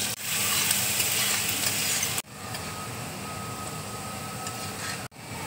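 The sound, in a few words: chopped garlic frying in hot oil in a wok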